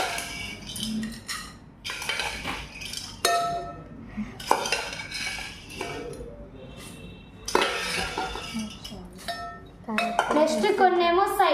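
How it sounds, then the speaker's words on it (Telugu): A ladle and a mixing bowl are handled while making a puffed rice snack, giving repeated clinks and knocks of metal utensils against the bowl close by, with some brief sounds like talk in the background. "ఒక గరిట ఇంకా ఒక గిన్నె తీసుకోండి మిక్సింగ్ కోసం"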